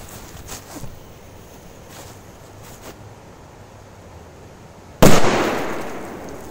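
After several seconds of quiet outdoor ambience with a few faint pops, a single loud firecracker blast bursts out close by inside a toy tractor, its noise trailing off.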